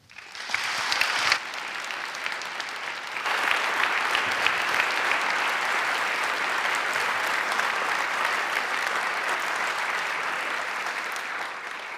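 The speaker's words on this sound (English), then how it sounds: "Please welcome, with a big round of applause, Mr. Jamie Hyneman." Audience applause at the opening ceremony of the J. Hyneman Center, starting with a brief burst, then swelling into sustained, dense clapping from a large crowd that holds steady before slowly easing.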